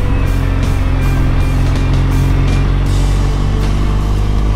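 BMW R 1200 GS motorcycle on a gorge ride, its steady engine drone loud and close with wind rush, rising slightly as it accelerates through turns, no talk.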